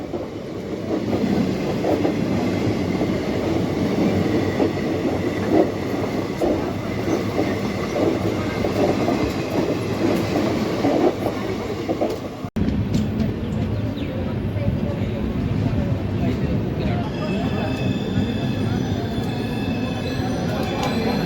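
The Pune Amravati Express rolls along the rails with a constant loud rumble and rhythmic clatter from inside the carriage, a sharp knock midway, and a brighter, squealing wheel tone toward the end.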